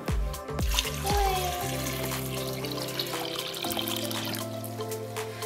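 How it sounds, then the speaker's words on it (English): Cold tap water streams into a large sauce pot of potatoes, with a few knocks at the start and then a steady pouring rush whose tone rises as the pot fills. "put our potatoes into a large sauce pot, fill it with cold water."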